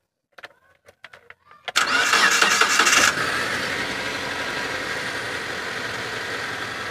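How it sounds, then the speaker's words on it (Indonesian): A few clicks, then the engine of a 2013 Mitsubishi T120SS pickup truck in neutral cranks and catches with a loud rev before settling into a steady, even idle that rumbles on. "kita udah starter kita dengerin suaranya dari langsamnya itu masih normal-normal aja"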